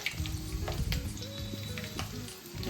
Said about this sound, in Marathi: हिरवी मिरची थोडी शिजवून घ्यायची.